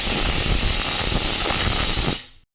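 Pressure cooker of pudina pulao venting steam as its lid is opened after whistling, a loud, steady broadband hiss lasting about two seconds before cutting off abruptly into silence.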